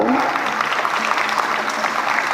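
A crowd claps loudly and steadily, a dense wash of applause that keeps an even volume throughout, with a voice briefly audible at the start.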